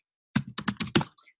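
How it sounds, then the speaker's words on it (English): A burst of about six quick keystrokes on a computer keyboard while typing a country name into a search box, close and crisp in an otherwise silent room. "simply type in the country's name in the search box"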